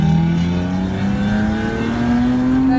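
A BMW drift car on a French race circuit revs loudly and close, its engine note climbing steadily through the whole stretch with no talk over it.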